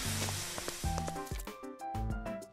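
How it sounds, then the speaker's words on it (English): A campfire in the Minecraft video game crackles and sizzles in short hissing bursts with a few soft pops, fairly close and moderately quiet, with no talking. "Something's sizzling in that damn fire."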